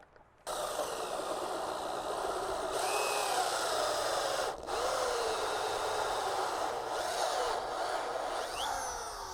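A power drill runs steadily to tighten a fastener on a Simpson Strong-Tie CPT66Z post beam bracket, a continuous whirring drone with brief dips and slight changes in pitch, close and sustained for most of the stretch.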